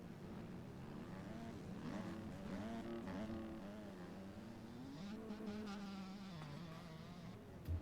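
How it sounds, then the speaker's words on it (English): A two-stroke motocross bike races at a Washington event, its engine revving high and buzzing, rising and falling as it rips past at a distance, thin and faint. "Oh man, I love hearing that two-stroke just rip."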